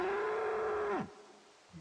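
A cow moos in the Project Zomboid video game, one long sustained low call that slides down in pitch and fades out, followed by a faint brief grunt.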